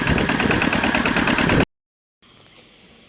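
Farm engine, apparently a solar-pump setup in a Roxas, Isabela field, running loudly with a rough, labored pulsing, then cutting out abruptly into silence before a faint idle resumes.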